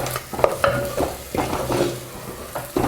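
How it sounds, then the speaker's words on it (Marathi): Onion and coconut masala paste is sautéed for mutton in a clay pot, with repeated scraping stirs in a loose rhythm over a low, close sizzle. "हा मसाला आपण थोडासा परतून घेऊयात"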